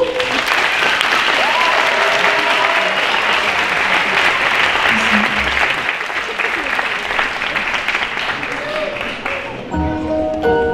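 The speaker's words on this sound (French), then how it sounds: "je vous demande de faire un tonnerre d'applaudissements pour Lou" A loud, dense wave of audience applause at a Miraculous event in the Musée Grévin, sustained for about ten seconds, with crowd noise and bits of music mixed in before it tapers near the end.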